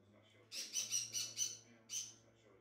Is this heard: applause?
no